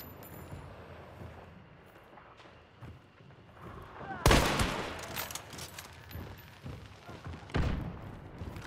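Gunfire in the video game Hunt: Showdown, a few sharp, loud shots ringing out over quieter background ambience and movement, with a burst around the middle and another near the end.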